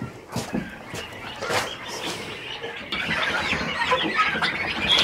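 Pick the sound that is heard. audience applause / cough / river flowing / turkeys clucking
turkeys clucking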